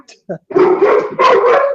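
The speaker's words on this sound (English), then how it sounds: "Dogs are barking." Dogs barking indoors after someone comes to the door, a few short yips followed by loud overlapping barks in two bursts, close and dominant.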